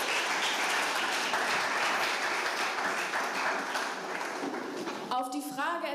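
Lively audience applause at a poetry slam, dense and sustained clapping that fades slightly before a voice begins speaking over the end.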